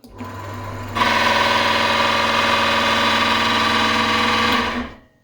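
A small single-phase electric lathe motor hums steadily, stepping up to a louder, busier whine after a second, running evenly for several seconds before winding down.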